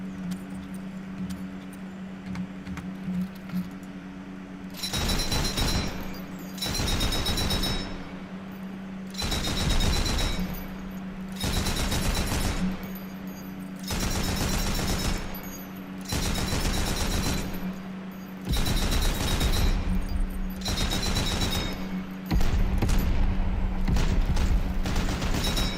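Dushka and M2 heavy machine gun fire in a video game, heard as repeated long, loud bursts of rapid automatic fire separated by short pauses over a steady low hum, with no talk.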